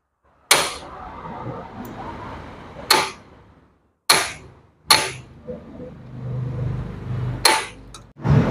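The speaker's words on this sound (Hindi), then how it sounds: "जब भी आप हैमर की चोट मारोगे तभी ये टाइट होंगे" A hammer striking screws on an old Royal Enfield Bullet 350 gearbox, six sharp metallic blows spaced irregularly, each ringing briefly, with faint workshop noise between.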